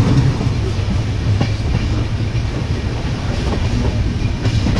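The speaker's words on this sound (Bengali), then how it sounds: "মিটার গেজ এই ট্রেনটার রুট হচ্ছে মাভলি জাংশন টু মারওয়াড় জাংশন" A meter gauge train on the Mavli Junction to Marwar Junction line rolls steadily along the rails, with a continuous loud rumble and faint rhythmic wheel clatter, close by and without talk.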